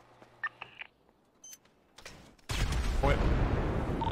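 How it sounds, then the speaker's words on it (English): A car explodes inside a garage in a roleplay video game, a sudden heavy blast followed by sustained roaring rumble, after sparse quiet sounds and faint talk. "I think the car exploded inside of their garage."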